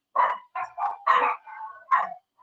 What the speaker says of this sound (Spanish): Anda a ladrar al otro lado.